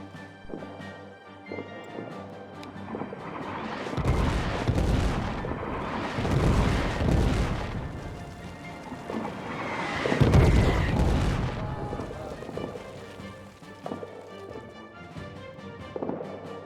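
Repeated artillery fire in the WWI trench video game Invincible, deep booming blasts roughly every few seconds, loud and rumbling, with a steady background bed between impacts.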